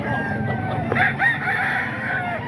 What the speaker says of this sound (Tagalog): Ang daming manok ni Ray.